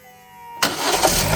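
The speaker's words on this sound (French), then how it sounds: "on peut voir ici le moteur qui cale sur la résistance de l'alternateur" A quiet stretch, then a car engine bursts into life and keeps running with a rough, loud rumble, stalling under the load of the alternator.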